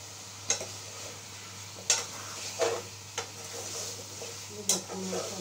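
Eggplant and potato chunks with turmeric frying in a pan, with a steady low sizzle and a few sharp scrapes and clinks as they are stirred, close by and fairly quiet.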